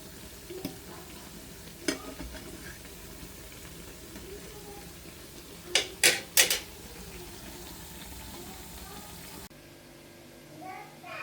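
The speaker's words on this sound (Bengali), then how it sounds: "এগুলা ভাজা হোক" Oil sizzles softly and continuously as spinach-leaf pakoras fry, with a few sharp clinks of a utensil against the pan.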